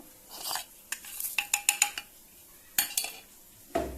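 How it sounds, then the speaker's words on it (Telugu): Cumin, shallots, curry leaves and chilli pounded in a stone mortar for an okra fry, giving a string of sharp, close knocks in uneven bursts with short pauses between strokes and no talking. "ఇప్పుడు వీటిని మనము రోట్లో వేసుకొని దంచుకుందాం"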